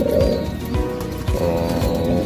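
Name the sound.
pigeons cooing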